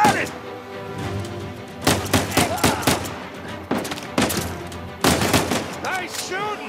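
Gunfire in the action game Uncharted: Legacy of Thieves, sharp bursts of shots in several clusters, loud and close, with game voices speaking between the volleys.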